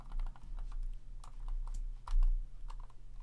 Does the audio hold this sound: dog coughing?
no